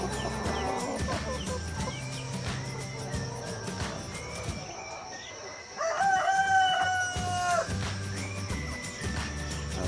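A breeding rooster on a layer-hen farm crows loudly in a long, rising call, with other poultry clucking and background farm noise around it.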